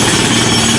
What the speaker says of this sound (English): is that a jackhammer?